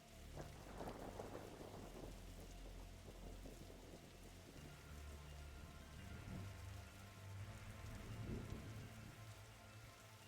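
Steady rain pours in the Darkside Detective video game as a storm gathers over a library, with deep rolls of thunder swelling near the start and again near the end.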